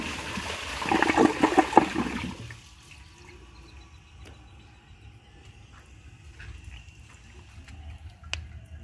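A 2019 Glacier Bay high-efficiency toilet flushes with a loud rushing swirl for about two seconds, then the water settles into a quiet trickle with occasional soft drips.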